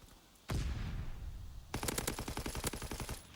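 Gunfire in a Call of Duty World League pro match: a sharp shot opens a sustained volley, then rapid automatic bursts rattle off in quick succession, loud and close, with no voices.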